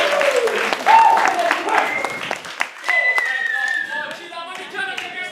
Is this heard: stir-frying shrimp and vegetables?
no